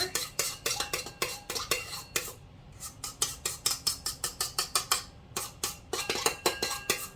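A utensil scoops and stirs thick pumpkin cheesecake filling into a bowl, making steady rhythmic scraping clinks against the dish that are close and clear, with brief pauses between strokes.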